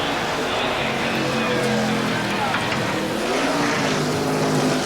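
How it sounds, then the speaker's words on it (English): Stock car engines roar in a NASCAR racing video game as the field circles behind the pace car, a loud, continuous, blended drone that holds steady throughout. "The race starts with a pace car leading the cars around the track to warm up the engines and transmissions"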